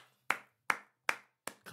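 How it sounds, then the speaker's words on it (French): Four sharp, close hand claps spaced evenly apart, with a fifth clap just beginning at the end and silence between the claps. "Là, tu mérites des applaudissements."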